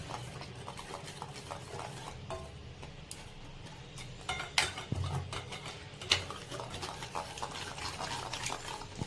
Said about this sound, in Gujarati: આપણે બધું પાણી આ રીતે ચમચાના મદદથી ગળી લઈએ ચારા વખતે